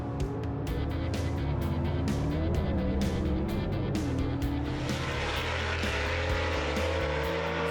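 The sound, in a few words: drag racing car making a pass down the strip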